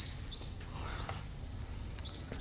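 Baby birds in a nest give brief, high thin chirps in a few short bursts, fairly faint over a low steady background rumble.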